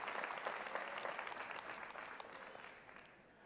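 A crowd at a Dunedin High School graduation ceremony claps in a faint, distant patter that gradually thins and fades over a few seconds.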